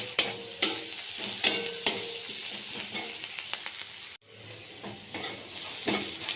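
Garlic paste and onion frying in a pan for a taro-leaf and shrimp dish, with a spatula scraping and tapping the pan over a soft sizzle.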